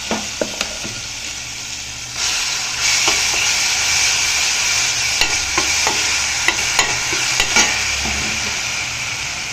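A paste of ground curry leaves, coriander and mint sizzles in a pan, a steady close hiss broken by repeated sharp scrapes and taps of a spoon as it is stirred, with no talking.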